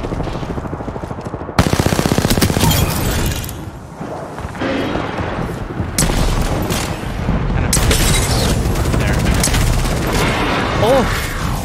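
Rapid automatic gunfire from the Apex Legends battle royale shooter fills the scene in loud, dense bursts with heavy booming shots. Sharp single cracks stand out, and a voice talks over the fighting.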